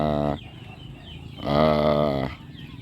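A fierce gamecock rooster clucks in two loud, drawn-out bursts separated by a short pause, close by with no talking over it.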